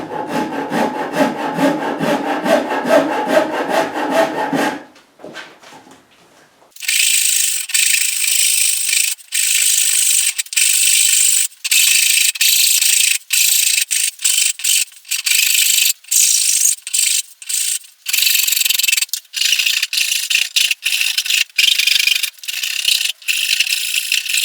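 A half-round carving file removes wood from a guitar top held in a vise, loud rhythmic rasping strokes in quick repeated runs after a brief pause, alone with no talk.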